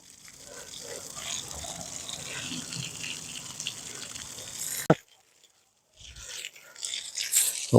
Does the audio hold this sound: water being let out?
yes